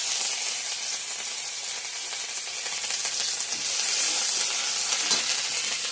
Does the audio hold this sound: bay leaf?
yes